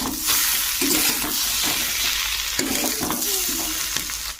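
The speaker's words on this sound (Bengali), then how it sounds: "চলো কই মাছগুলো ভেজে নিচ্ছি" Koi fish fry in hot oil in a village kitchen, giving a loud, bubbling sizzle with a few sharp pops and shifting spatters, close up and without any talk.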